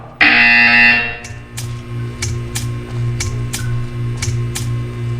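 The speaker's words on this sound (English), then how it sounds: "You will hear a buzzer. When you hear the buzzer, stare at the art." A loud, harsh electronic buzzer in Portal 2 blares for about a second, followed by a rhythmic series of short clicks over a low steady hum.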